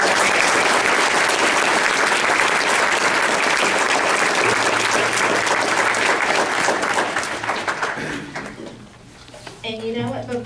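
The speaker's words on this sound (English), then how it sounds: "I would like, just a round of applause." Sustained audience applause for wedding cakes, chocolate with raspberry filling among them, loud and dense clapping that fades toward the end as a voice and low hum come through.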